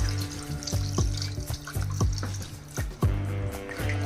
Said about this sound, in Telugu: ఇప్పుడైతే వాటర్ వేసుకుందాం.